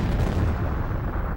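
Explosions in the PS1 game Aconcagua: a dense, loud rumbling blast with crackling bursts, sustained and filling the short moment alone.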